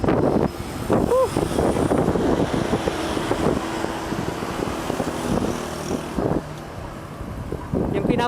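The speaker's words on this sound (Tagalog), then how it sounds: "Tapos yung hangin pa sumasalubong." A headwind buffets the microphone while cycling from North Caloocan to Pampanga, a loud continuous rumbling roar with people talking over it.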